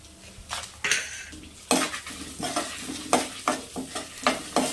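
Dried red chillies fry in hot oil in a pan while being stirred. Close, rhythmic scraping strikes of the utensil rise over a continuous sizzle.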